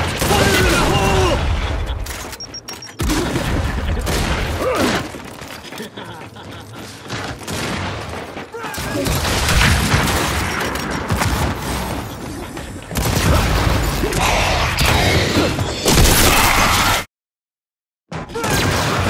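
Grenade blasts and heavy gunfire from the video game Gears 5 rumble loud and close in repeated booming bursts and rattling volleys, with voices shouting over parts of the action before a sudden silent gap near the end.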